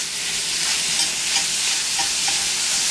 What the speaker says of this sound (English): We're going to brown that right along with the sauteed onions.